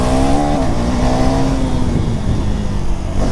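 A modified third-generation KTM Duke 390 motorcycle engine revs loud and close, its thumping rise in pitch settling into a steady, rough drone throughout.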